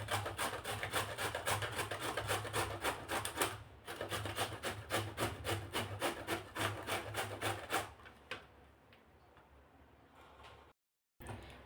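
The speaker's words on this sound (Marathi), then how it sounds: "भोपळा आपण किसून घेतला आहे।" Bottle gourd grated by hand for paratha, a rapid rhythmic rasping of quick strokes that runs steadily with one short break, then fades into quiet handling noises.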